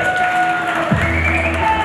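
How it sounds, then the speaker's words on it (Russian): Dense clapping from a crowd after a combat sports bout fills the space, a steady wash of applause with a few tones ringing faintly underneath. "Под ваши аплодисменты"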